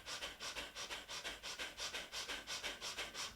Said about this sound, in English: Breath of fire is our panting breath through the nose.